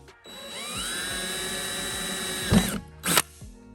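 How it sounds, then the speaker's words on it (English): A power drill whines steadily while boring into the metal body of a Mercedes Sprinter van, then stops with a short clatter and a brief burst of noise, close and loud, with no speech. "I'm gonna go ahead and drill. And you just wanna go just in real quick, not too far."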